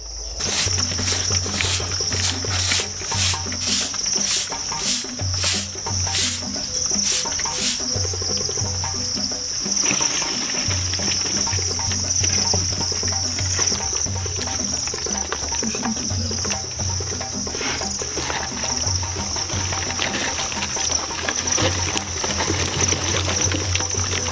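Edible crickets chirp on a cricket farm in Benin, a loud, dense shrill chorus with rapid pulsing bursts. A low droning hum and intermittent rustling run underneath.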